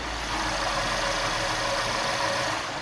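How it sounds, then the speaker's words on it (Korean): The petrol engine of a 2018 Mercedes-AMG idles steadily up close with the bonnet open, a smooth, even hum with a soft whirring hiss and no other sounds. "엔진 소음을 담기 위해 본네트를 한번 열어봤는데요"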